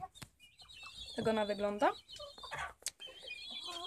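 A hen, one of a backyard flock that lays greenish eggs, clucks in a series of short calls in a coop at evening, near and moderately loud, while a person speaks over it.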